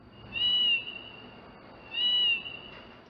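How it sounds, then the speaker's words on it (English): A parcel delivery terminal in Japan sounds an electronic alert twice, a short synthetic chirp resembling a cat's meow, clear and moderately loud against a quiet background. "It's the sound of a cat."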